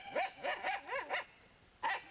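A dog barks in a quick run of five or six close, loud yips and barks, then pauses briefly before one more bark, heard near and without talk.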